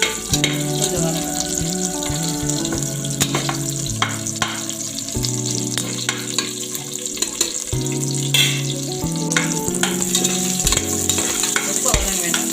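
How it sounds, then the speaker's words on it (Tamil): Curry leaves sauté in a pan of hot oil for mutton leg soup, a loud, steady sizzle and frying crackle with stirring scrapes running throughout. "ரொம்ப வதங்க வேண்டாம், 10 இலை வதங்கினாலே போதும்."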